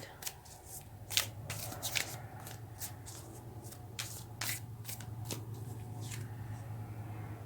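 Tarot cards being shuffled and drawn for a reading, a soft papery riffle and slap of cards in a quiet room, with several crisp flicks as cards are laid down over a low steady hum.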